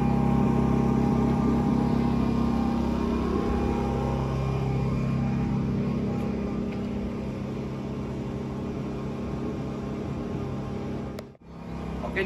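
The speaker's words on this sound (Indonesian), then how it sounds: "Genset ini 4 tak, jadi tidak mengeluarkan asap dan juga minim perawatan." A Hyundai four-stroke generator rated at 1000 watts runs with a steady, even engine hum that holds throughout, dipping briefly near the end.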